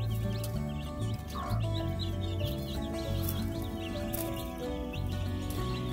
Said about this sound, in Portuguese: Galinha Brahma